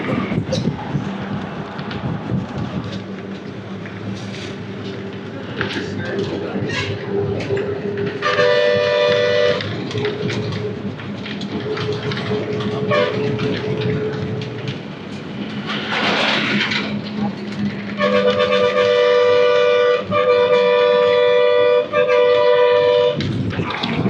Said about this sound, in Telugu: గూడ్స్ ట్రైన్ అయితే వెళ్తుంది.